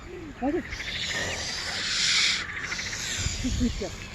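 Swan hissing outdoors, a steady breathy hiss that swells in the middle, with short chirpy calls and voices at the edges of the sound.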